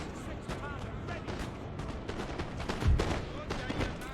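Musket gunfire in Napoleon: Total War, a clatter of scattered volleys and crackling shots at a moderate distance, with one heavier boom near the end, under a busy battlefield din.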